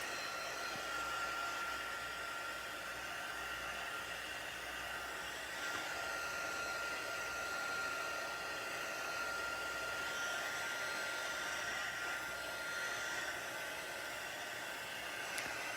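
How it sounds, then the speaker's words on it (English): Electric heat tool blowing hot air to dry watercolor pencil work on a handmade card, a steady, even whooshing hiss held for the whole stretch with no talking. "Heat tool again, just to dry it."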